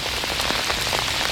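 Heavy rain pours down outdoors on a cold February day, a dense, steady hiss of drops striking surfaces close by, with no voices.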